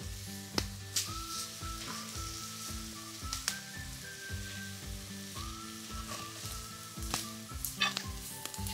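Greens and bok choy fry in a pan outdoors in a forest, giving a steady close sizzle broken by frequent sharp clicks and taps of a utensil against the pan.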